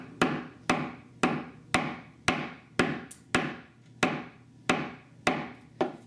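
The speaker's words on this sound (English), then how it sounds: "since both of my rivets are placed, I can go ahead and just hammer both of those together." A hammer strikes metal rivets on a leather cuff bracelet, about a dozen sharp, evenly spaced blows, close and alone.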